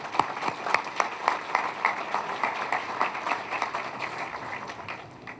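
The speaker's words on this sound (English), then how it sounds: "another round of applause, of course, for the Marriott and our fabulous Chamber of Commerce" Audience applause at a Newport Beach fire and lifeguard dinner in a Marriott banquet room: fairly faint, steady clapping from a seated crowd that slowly thins toward the end.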